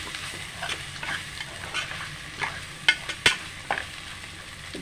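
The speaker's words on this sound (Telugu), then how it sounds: "ఫ్రై చేసుకుందాం." Bitter gourd coated in masala frying in a pan, with an even crackling sizzle and occasional sharp spatula taps and scrapes, close and with no talk.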